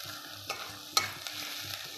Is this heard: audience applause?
no